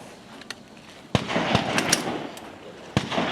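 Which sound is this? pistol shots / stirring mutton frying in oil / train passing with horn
pistol shots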